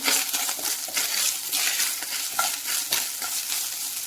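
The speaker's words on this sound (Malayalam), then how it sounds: "അതിനുശേഷം ഒന്ന് നമുക്ക് ഇളക്കി കൊടുക്കാം." A spoon stirs dried shrimp curry with grated coconut in a pan, giving a steady scraping and rustling sizzle with light clinks throughout.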